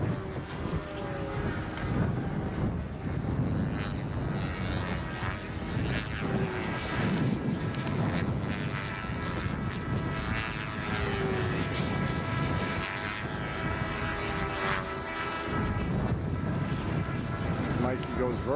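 A model bomber airplane flying in gusty wind at a model aircraft nationals meet, its propeller engine droning steadily throughout under heavy wind rumble, with people talking nearby.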